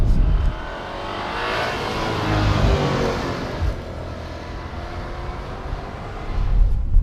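A 700-horsepower Audi RS7 engine drones steadily at speed with a low, rumbling tone, swelling a little at the start and again near the end, with no talking.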